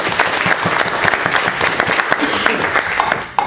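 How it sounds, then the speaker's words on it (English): An audience at a tech talk on a mesh-based phone network applauds the speaker, loud dense clapping from many hands filling the whole stretch, close and sustained without letup. "So please, an applause for Paul."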